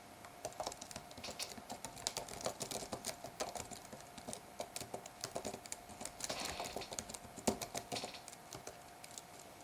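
Rapid clicking of a computer keyboard as Python code is typed for a 2D zombie survival game, with quick irregular keystrokes and occasional heavier taps, fairly close and steady, with no talk.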